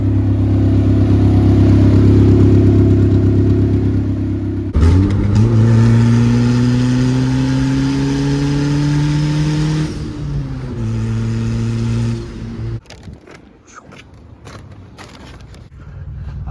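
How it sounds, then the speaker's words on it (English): A boosted Honda Civic engine idles loudly and close while warming up, then revs with rising and falling pitch sweeps before settling and cutting to quieter, choppier sound near the end. "I'm gonna take the boosted Civic down to town. It's warming up right now."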